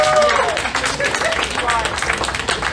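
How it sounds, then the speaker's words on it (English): An audience at a rock band variety show claps in a dense, loud burst of applause that carries on for the whole moment, with crowd babble mixed underneath. "You're clapping."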